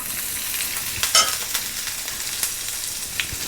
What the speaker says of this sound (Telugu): ఇవన్నీ కొంచెం సేపు ఫ్రై చేస్తాను కొంచెం సేపు ఫ్రై చేసుకోవాలి